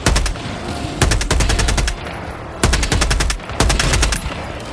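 Loud rapid automatic gunfire in the video game Helldivers 2 comes in several sustained bursts separated by brief pauses, close and dominant.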